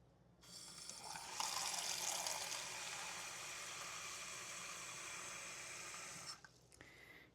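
Tap water runs steadily for about six seconds to fill a small repurposed container for watercolor painting, a broad continuous rushing splash that starts abruptly, holds even, then cuts off with a couple of faint clinks after.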